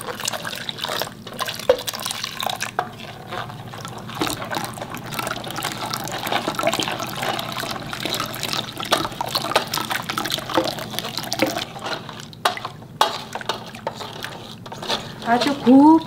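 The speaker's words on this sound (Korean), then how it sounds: "여기에다가 다시마 우린 물을 부어 주겠습니다. 이렇게 부어 주면서 걸러 주세요." Kelp broth is poured through a sieve over blended ingredients for Korean napa cabbage water kimchi, giving a steady splashing trickle under a voice that talks throughout.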